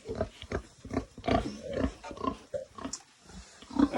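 A pig grunts close by on a village farm in a rapid series of short, snuffling grunts and snorts that come in uneven bursts, with no one talking.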